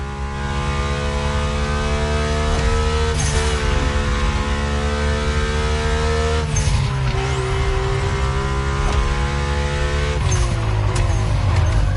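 Mercedes-AMG One hypercar driving in The Crew Motorfest racing game, its engine droning steadily with layered harmonic tones and shifting pitch, with tire squeal and skidding bursts at intervals, loud and continuous throughout.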